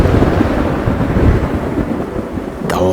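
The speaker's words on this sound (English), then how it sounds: "the lightning sounds and the lightning itself, it's amazing" Rolling thunder from a storm in the driving game CHASED, a loud, continuous low rumble with rain-like hiss filling the whole stretch, no talking.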